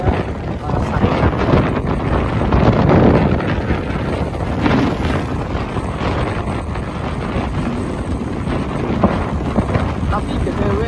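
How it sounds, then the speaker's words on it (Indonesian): Strong wind buffets the microphone during a road trip along Java's southern route, a loud continuous rumbling roar with gusts swelling around the third second, heavy and close throughout the whole stretch. "Tapi BTW kalau anginnya kenceng banget kayak gini sampai materi suaranya jelas enggak ya?"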